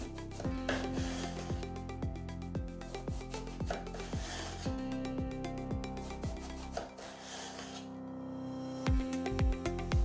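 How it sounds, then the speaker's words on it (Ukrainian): A knife slices eggplant into thin strips on a board, a run of soft rhythmic cuts and rubbing strokes close by under prominent background music, with no talk. "Стараємось різати тоненько, бо вони потім будуть ще скручуватися, щоб не були великими."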